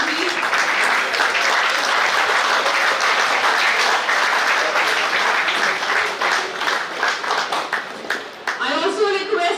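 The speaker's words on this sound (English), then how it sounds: "With a warm round of applause by the audience," Warm applause from the audience at a national convention of mechanical engineers, a sustained roar of many hands clapping that tapers near the end as a voice begins speaking.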